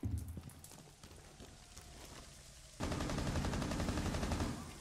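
Faint, scattered shots in a Rainbow Six Siege round give way to a sustained, rapid stream of automatic gunfire that continues steadily, then tapers off near the end.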